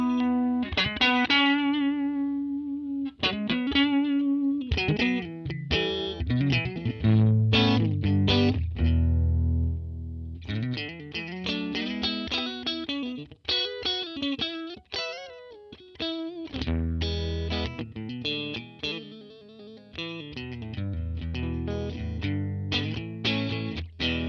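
An electric guitar plays through an original Line 6 Pod on a Fender Dual Reverb amp model, a distorted, effects-laden tone with chords and single-note runs carrying loud and up close, with no talking.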